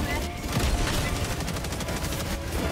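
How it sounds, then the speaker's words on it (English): A turret firing in the video game Helldivers 2, rapid dense shots and blasts crowding together into a loud, continuous barrage, with a voice faintly mixed underneath. "the turret's still going"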